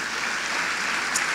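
Dense, steady applause from a church congregation honouring its leaders and coordinators, loud and continuous throughout the short stretch.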